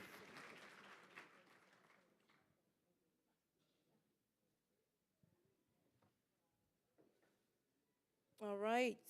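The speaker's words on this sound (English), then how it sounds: "Please, a round of applause for Miss Kenya for helping out tonight" An audience at a livestreamed 2022 ASCA community event gives a round of applause for Miss Kenya, moderately loud at first and thinning into scattered claps before fading away; a voice briefly speaks near the end.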